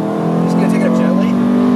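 A 1983 VW Rabbit GTI, running oddly while its motor is cold, holds a loud, steady high-rpm engine note around 7000 rpm, heard from close by over its whole length.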